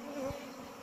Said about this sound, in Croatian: Uglavnom pčele se ne bune